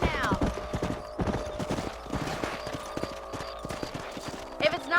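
Horse hooves clip-clopping at a steady pace while riding in the video game Red Dead Redemption, close and rhythmic, with occasional snorts and game music beneath.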